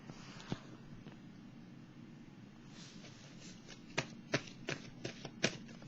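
Tarot cards shuffled by hand, a steady soft riffling that grows sharper toward the end with a run of crisp snaps and flicks, close and quiet with no talking.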